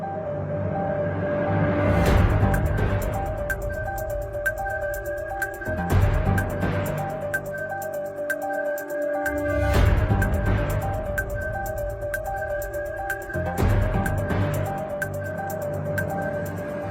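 Rainwater leaks through the roof of the Spens sports and cultural centre in Novi Sad, falling into buckets placed on the floor. Slow, heavy drips splash about every four seconds over a faint hum in a large, quiet hall.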